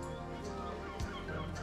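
Seagulls call at a fishing harbour in Morocco, their cries heard a short way off over steady wind and harbour noise, with no talking.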